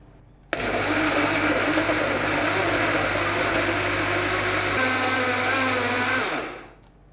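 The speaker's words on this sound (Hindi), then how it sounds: "2 टेबलस्पून के बराबर हम इसमें दूध शामिल करेंगे ताकि ये जो प्यूरी हम बना रहे हैं वो अच्छे तरीके से ग्राइंड हो जाए" A blender grinds mango pulp with about two tablespoons of milk into a puree. It starts abruptly and whirs loudly and steadily, shifts lower partway through, then winds down and stops.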